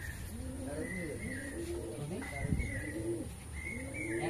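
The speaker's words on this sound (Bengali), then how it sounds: "এই পায়রাটা খুব ভালো।" Pigeons of a yellow-eyed bloodline coo in repeated, rolling low phrases, several calls overlapping and close by. A faint human voice sits underneath.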